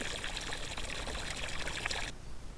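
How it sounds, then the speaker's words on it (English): Water is poured steadily to prime a centrifugal pump for a hand-drilled well, a close continuous splashing stream that stops abruptly near the end. "For the first use, we need to prime the pump with water, so it has something to start pumping."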